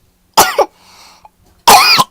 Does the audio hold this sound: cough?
yes